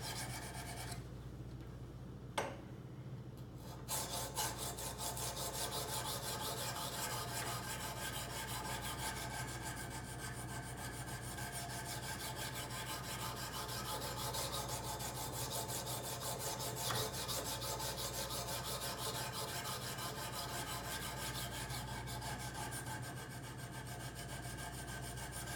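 A knife is sharpened on a coarse 80-grit stone in a Kazak UBR sharpening system, producing a continuous, loud rasping grind with rapid repeated strokes throughout, briefly interrupted near the start and then steady to the end.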